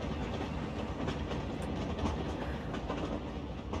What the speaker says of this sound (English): A train does travel!